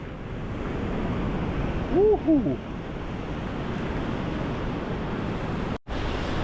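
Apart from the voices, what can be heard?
Atlantic ocean waves on the coast of Madeira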